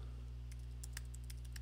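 Rapid light keystrokes on a computer keyboard entering a domain name, a quick run of soft clicks over a steady low hum.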